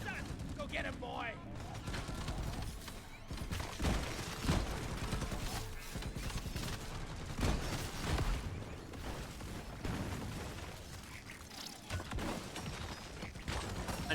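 Engineer sentry gun turrets in Deep Rock Galactic fire steadily at swarming enemies, a dense, continuous rattle of gunfire and mechanical clatter with someone talking over it.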